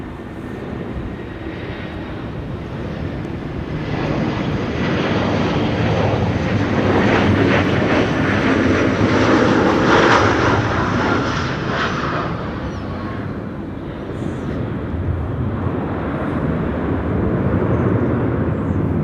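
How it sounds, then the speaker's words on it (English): An ITA Airways Airbus A320neo arriving from Rome at Amsterdam Schiphol in high winds gives a loud, steady broadband jet roar that swells toward the middle and eases slightly after, with no talk. "ITA Airways A320neo arriving from Rome next after that."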